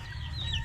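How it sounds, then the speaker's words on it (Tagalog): A chicken clucks close by in a coastal Eastern Samar village, one short call over low steady background noise. "Manok."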